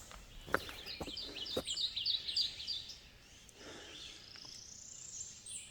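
Birds sing and chirp in deep woods on a Missouri hike, with faint high calls and trills over quiet background and a few soft footstep-like knocks, fairly distant and low in level.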